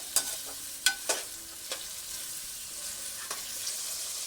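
About 700 grams of potatoes fry in a pot, a soft steady sizzle with a few sharp knocks and scrapes from stirring, fairly quiet and close with no talking.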